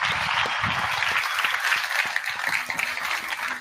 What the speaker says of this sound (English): please join me in giving a huge round of applause to these incredible folks